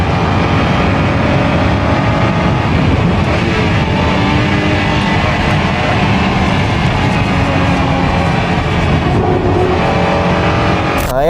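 A Honda NSX engine roars steadily and loudly throughout, as driven by Ayrton Senna at Suzuka in 1990, with a continuous high-revving drone and no talking.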